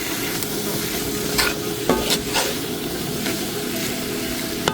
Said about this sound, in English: as the vegetables cook, it's going to give off, you know, some liquid